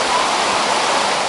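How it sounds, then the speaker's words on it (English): A waterfall in the Colombian jungle roars as a dense, steady broadband rush, loud and close, with no voices over it. "We made it to the waterfall."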